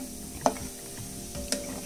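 A banana snack fries in hot oil with a steady close sizzle, broken by a couple of brief clinks or stirs.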